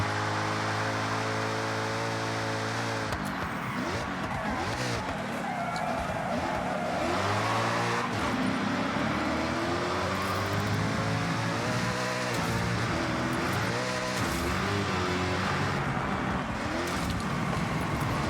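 A car in the Forza Horizon racing game, its engine revving up and down through gear changes, with tire squeal and skidding, loud and continuous.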